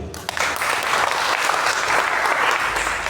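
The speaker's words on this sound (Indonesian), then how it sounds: "Beri tepuk tangan untuk Pak Gubernur." An audience claps for the governor at a Pancasila ideology outreach gathering, dense sustained applause starting abruptly and holding steady and loud for a few seconds, with no speech over it.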